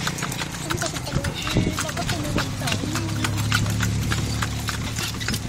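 Horse hooves clip-clop at a steady walking rhythm while pulling a kalesa carriage through streets near Apo Market in Angeles City, with people talking over the hoofbeats and street noise.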